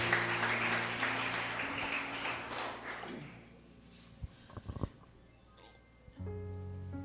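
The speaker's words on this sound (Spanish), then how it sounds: "Dale un aplauso, hermano, al que está arriba." A church congregation claps in a dense burst of applause that fades out after a few seconds, followed by a few scattered knocks and low background hum.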